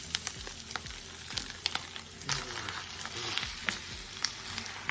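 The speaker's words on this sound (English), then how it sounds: "to the onion, the pesto, and the garlic, I'm adding ground beef, 2 pounds of ground beef" Two pounds of ground beef sizzling and frying in a pan with onion, pesto and garlic, a steady crackling hiss with occasional stirring scrapes, close and continuous, no talking.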